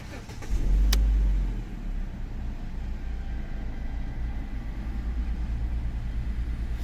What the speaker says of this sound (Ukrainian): Включаємо запалення, заводимо.